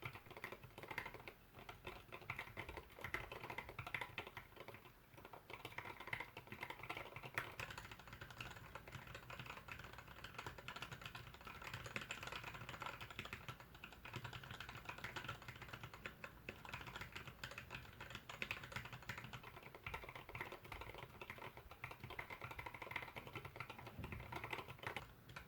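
Continuous rapid typing on a Plank mechanical keyboard with looped Gateron yellow switches and Zeal housings, a soft, smooth clatter of keystrokes at a steady pace, fairly quiet and close, with no talking.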